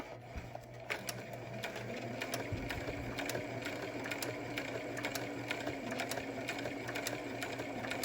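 A sewing machine runs a continuous stitching pass along a channel in a fabric face mask, its steady close mechanical whir and rapid needle rhythm holding unbroken throughout, with no voices.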